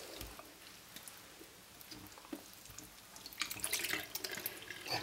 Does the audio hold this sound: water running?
yes